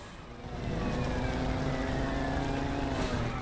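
A motorcycle engine in the LEGO Batman video game rises in at the start, then hums at a steady pitch with a slight upward drift, loud and close with no other sounds.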